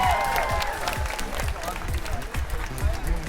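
Crowd applause at an outdoor Pride festival, with cheering voices mixed into the steady clapping and some talk underneath, continuous and fairly dense throughout.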